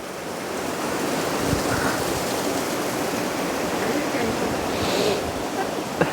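A forest waterfall rushes with a steady, dense roar of falling water, close and loud throughout, with no break in the flow.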